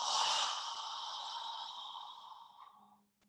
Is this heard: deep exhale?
yes